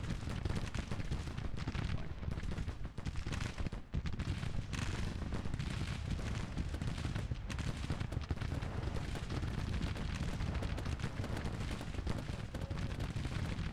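Troops fire in a Confederate cavalry battle in the Grand Tactician strategy game, a dense, continuous roar of musketry and booming reports that never lets up.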